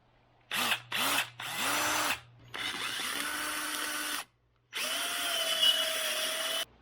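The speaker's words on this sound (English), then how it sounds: "drill this one out a smidge, and drill that one out" A power drill boring out holes on a C6.5 Corvette during a wickerbill spoiler install, running in two short bursts and then three longer whining passes, close and loud, with brief pauses between them.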